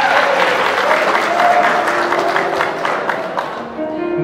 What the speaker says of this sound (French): À nous applaudir, bien-aimés.